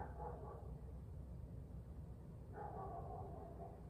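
A dog barks twice, a short burst at the start and another about two and a half seconds later, moderately loud against a low steady background rumble.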